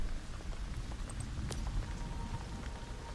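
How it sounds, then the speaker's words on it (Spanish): Steady rain in the survival video game Once Human, a dense even hiss of falling drops with faint scattered patters and a brief high ping partway through, continuous throughout and fairly quiet. "Que está lloviendo."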